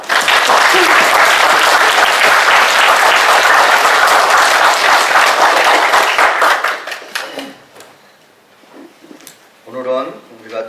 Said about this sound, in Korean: 하나님께 우리 영광의 박수, 감사의 박수를 좀 크게 한번 올려주십시오